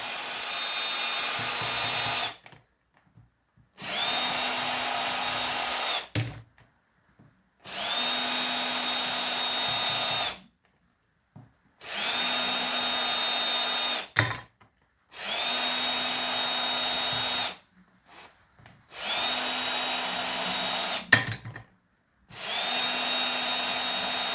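A cordless power drill backs screws out of a piece of heavy industrial scrap metal, whirring in seven steady bursts of two to three seconds each, separated by short silent gaps, loud and close with no talking.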